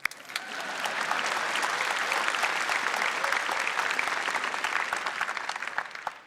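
Crowd clapping at the Samsung Galaxy Note 9 launch event, rising quickly into a sustained round of applause with crisp individual claps, then easing off near the end.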